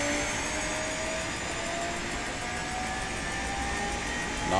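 An ATR72 turboprop's number 2 engine starts up in MSFS 2024. A thin whine rises slowly over a steady, dense roar of rushing air that fills the whole stretch.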